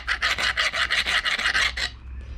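Steel file rasped back and forth across a blacksmith's swage block, about nine quick, loud, evenly spaced strokes up close, then stopping abruptly.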